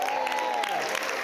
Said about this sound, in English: how about a round of applause for Narup for officiating?